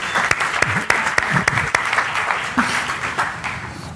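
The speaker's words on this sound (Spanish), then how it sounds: "podemos darles un aplauso" Audience applause at a public-speaking masterclass lecture, a steady patter of many hands clapping with sharp individual claps standing out, with brief voice fragments underneath.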